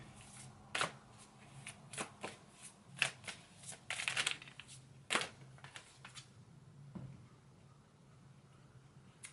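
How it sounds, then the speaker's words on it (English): Oracle cards shuffle and are pulled in a card reading, a series of crisp riffling snaps and flicks in uneven bursts, then fading to quiet handling, with no one talking. "I'm gonna have them pull another card for you"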